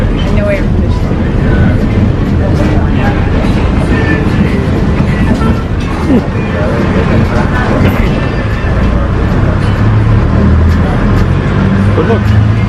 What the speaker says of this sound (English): We're on the bus, the runaway riders.